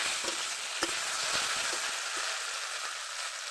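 Taro frying in oil with cumin seeds, bay leaves and dried red chilli, stirred with repeated scraping clatters of a spatula over a continuous close sizzle.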